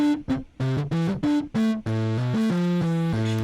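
Harsh, bit-crushed guitar notes stutter in short bursts, then settle into a steadier run of grainy, digitally degraded tones, loud and up front.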